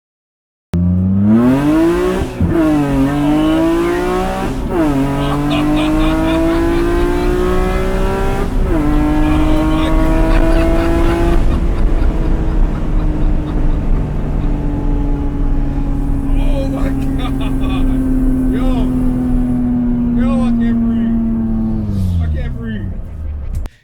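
A high-revving BMW E36 with an S54 engine climbing through several gear shifts, loud and close, before the revs drop away near the end.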